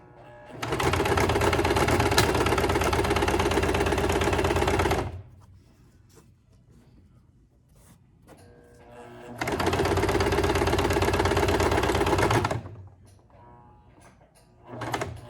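A sewing machine stitches fabric for a face mask in two long rapid bursts, loud and steady, separated by a quiet pause with small handling clicks.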